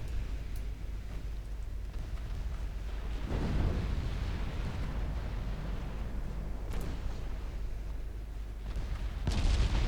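Battleship secondary guns fire in Ultimate Admiral Dreadnoughts, a steady rumbling barrage with a few sharper blasts standing out from the continuous low roar of the naval battle.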